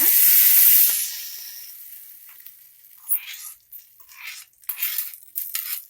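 A loud burst of sizzling as a hot oil tempering is poured onto neer dosa chutney, quickly fading to soft crackles, followed by a few light clinks and stirring noises.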